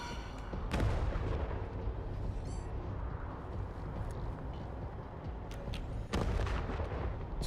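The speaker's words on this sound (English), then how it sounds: "So I got shot" Gunfire from the video game Control plays as a dense, steady rumble of shots and booms, with sharper louder blasts near the start and again toward the end.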